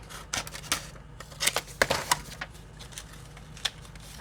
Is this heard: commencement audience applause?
no